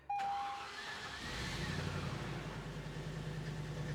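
A classic Land Rover D90 engine cranks briefly and catches, then settles into a steady, rumbling idle heard close up with no talk.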